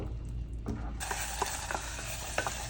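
Hot tempering poured into a Kerala buttermilk curry (moru curry) with okra, giving a sudden loud sizzle that settles into steady crackling and spattering, with a few clinks of a spoon, close up.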